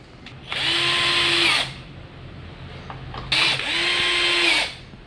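A power drill drives screws into a pinewood two-layer water rack in two bursts of about a second each. Each burst holds a steady whine and rises to full speed, with a short pause between them.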